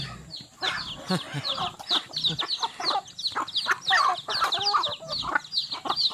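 Backyard chickens cluck and squawk busily at close range, many overlapping calls in an uneven stream, with some human voice mixed in.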